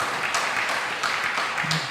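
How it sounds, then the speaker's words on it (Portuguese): Applause from a church congregation at a Sunday service, a steady wash of clapping heard at a moderate distance, with faint voices underneath. "Quer dar um lindo aplauso?"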